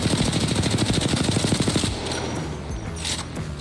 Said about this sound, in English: this is the recoil of the R301